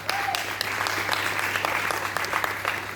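Audience applause with dense, sustained clapping from a crowd at a health products sales training session in India, steady and fairly loud through the whole stretch.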